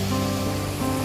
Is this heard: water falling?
yes